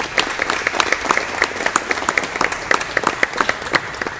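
Brief, steady applause from an audience at a lecture on sport and social justice, a moderate crowd clapping at an even pace.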